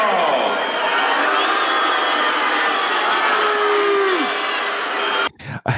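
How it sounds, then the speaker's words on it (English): A large arena crowd at a boxing match in Rocky IV roars and boos in a loud, sustained wall of voices that cuts off abruptly near the end. "Look at the vitriol booing."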